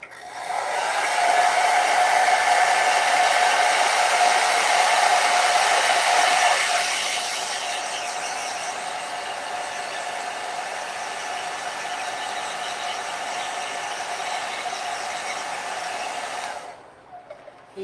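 A hair dryer blows steadily on a mixed media paint layer, a loud whooshing whine that drops to a lower setting partway through, then switches off near the end.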